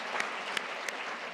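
An audience at a health care leadership and lifetime legacy awards ceremony claps in a steady, fairly faint patter for a brief moment, with no voices.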